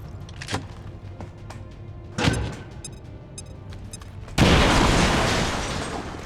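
A grenade goes off in the strategy game XCOM 2 after a couple of sharp thuds and clicks, bursting into a loud, broad blast that decays slowly over the last two seconds.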